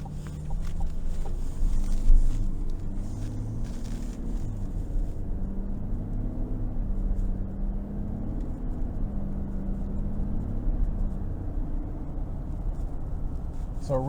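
A 2023 Chevrolet Silverado 1500 High Country with the 3.0 turbo diesel drives on the road, a low steady engine drone with gentle rises and falls under faint cabin noise.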